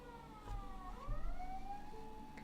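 An ambulance siren at night in Nara Prefecture, Japan, wailing with rising and falling pitch sweeps, moderately distant over low background rumble.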